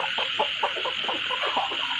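A rooster clucking in a quick run of short, close clucks over a steady high background hiss.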